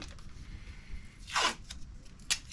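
Strip of tape pulled off the roll in one quick, close rasping tear, followed by a brief second rip, with faint handling noises around them.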